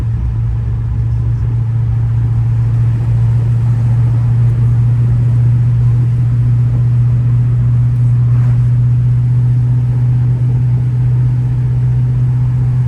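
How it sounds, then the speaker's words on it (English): Chevrolet S10 pickup with a 6.0 V8 engine swap and manual gearbox, driving with a loud, steady low engine drone and road rumble heard from inside the cab, no speech. "I had to downshift to make that curve."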